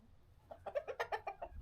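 Chickens from a farm Eggmobile clucking close by, a quick run of about eight short rhythmic clucks over a quiet outdoor background.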